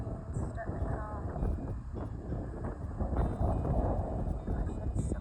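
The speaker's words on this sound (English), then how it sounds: "Gosh, that is so windy." Wind gusting through a garden of bush beans and peppers, buffeting the microphone with a steady low roar that swells and eases, with faint talking mixed in.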